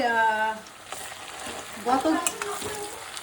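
Onions tossed into hot oil for a duck curry sizzle and crackle close by, with stirring scrapes and a brief tonal, voice-like sound at the start.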